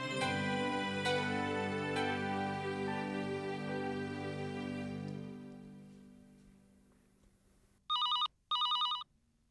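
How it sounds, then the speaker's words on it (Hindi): A telephone rings in two short, loud electronic bursts near the end, following a fading musical sting in a household drama scene. "मैं अभी शेखर को फोन लगाती हूँ"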